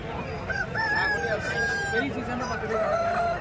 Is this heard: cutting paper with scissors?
no